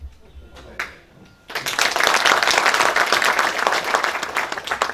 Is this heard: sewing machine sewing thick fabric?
no